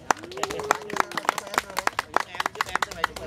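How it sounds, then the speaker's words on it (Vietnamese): A lecture audience claps in a quick, uneven burst of sharp hand claps, fairly close and moderately loud, with a voice speaking over and between them. "Vỗ tay, vỗ tay."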